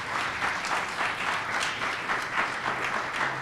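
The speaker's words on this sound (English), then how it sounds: "A round of applause for them." An audience at a mock trial championship awards ceremony claps warmly, a brief dense round of applause at steady moderate loudness with no voices over it.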